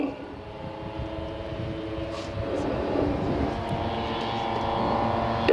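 Propeller aircraft escorting the Enola Gay on the Hiroshima mission, a steady droning engine hum that slowly swells louder, continuous and fairly near with no clear speech.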